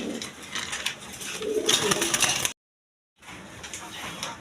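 Pigeons, including a pair of Afsan giriziyal birds at a market, give soft cooing calls amid busy background noise. A brief dead silence cuts the middle before the sound resumes.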